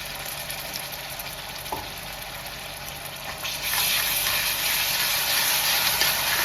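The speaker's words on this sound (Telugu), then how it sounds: "అల్లం వెల్లుల్లి పేస్ట్ మంచిగా ఫ్రై అయ్యేటట్టు ఉంచుకోవాలి" Ginger garlic paste fries in hot oil for a prawn fry, giving a steady crackling sizzle that swells louder partway through, with no voices.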